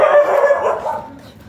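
A dog barks and yips angrily, close and loud, in a single agitated burst that fades into a whimpering tail outdoors in a residential subdivision.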